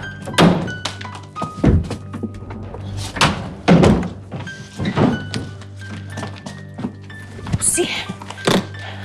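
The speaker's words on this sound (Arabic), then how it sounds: "تعالي اقفل الباب" Several heavy thunks of a door being shut and handled inside a home, arriving as distinct loud knocks spaced through the stretch, with people talking between them.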